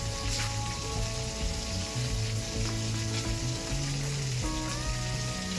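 Bata fish frying in a pan gives a steady, dense sizzle and crackle of oil with faint pops. Low sustained tones run beneath it, and no voices are heard.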